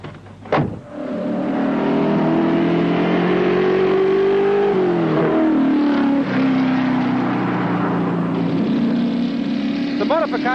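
A 1980 V8 touring car, a racing saloon, roars past loud and close with a sustained engine howl whose pitch sweeps down as it goes by, a sharp burst at the start and more engine noise following.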